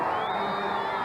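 Crowd cheering and whooping along the 1993 presidential inauguration parade route past Lafayette Park, a steady, dense roar of many voices filling the whole second.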